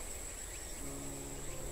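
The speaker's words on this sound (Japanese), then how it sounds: "セミの音、セミの鳴き声。" Cicadas drone near a boat landing in a steady, unbroken high-pitched buzz that fills the whole stretch, with a lower insect trill joining partway through, and no one speaks over it.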